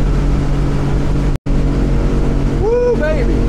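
A 2017 Edge Marine 23'7" boat with a Yamaha 250 outboard runs at full throttle into the wind, giving a loud steady engine drone and hull-on-water rush with a brief dropout and a few rising whistling tones.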